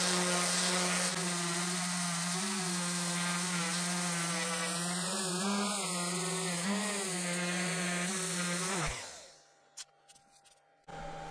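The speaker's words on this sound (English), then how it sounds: "we'll give it a good sanding to level out the surface" A power sander hums steadily as it levels a wood inlay patch repair, a constant close drone for about nine seconds before it winds down and stops, leaving faint clicks.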